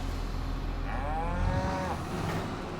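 Cattle moo in the farming game Farming Simulator 25, a couple of drawn-out, wavering lowing calls heard fairly clearly over a low background hum, with no speech.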